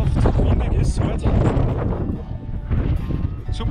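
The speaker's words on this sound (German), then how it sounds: "Traumhaft, windig ist es heute." Strong wind buffets the microphone with a low, gusty rumble on the Hochkönig summit at 2,941 m during a ski tour. A voice talks underneath.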